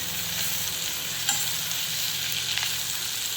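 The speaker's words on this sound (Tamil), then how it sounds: "இப்போ நம்ம வெட்டி வச்சுருக்கிற தக்காளியை சேர்த்துக்கலாம். இந்த தக்காளி வந்து நல்லா குழஞ்சி வர்ற வரைக்கும் வதக்கணும்." Chopped tomatoes sautéing in a pan, a steady close sizzle with soft stirring scrapes and a brief clink of a utensil partway through, no voices.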